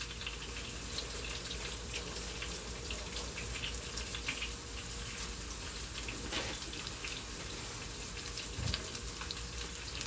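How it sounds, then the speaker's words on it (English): Running tap water pours steadily into a kitchen sink while hands are washed during pulled pork preparation, a continuous broadband splashing rush at close range with a brief louder splash near the end. "Let me wash my hands off a little bit."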